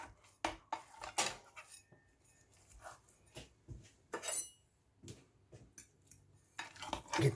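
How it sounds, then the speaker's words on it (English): Big spatula and then a fork working through baked, cheese-topped spaghetti in a dish, giving intermittent scraping and clinking clicks at close range, with no talk over them. "Get this big old spatula. Cut through all that cheese there."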